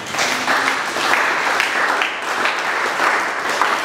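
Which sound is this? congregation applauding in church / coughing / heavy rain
congregation applauding in church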